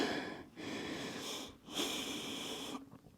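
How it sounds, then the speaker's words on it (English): Deep breathing in through the nose and out through the mouth during a yoga workout cooldown, with steady, close, airy breaths in a slow rhythm separated by brief pauses. "Breathing in through the nose, out through the mouth."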